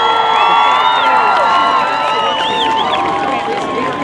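Loud crowd cheering with whoops and shouts from a lively audience, with some clapping mixed in, voices overlapping across the whole stretch.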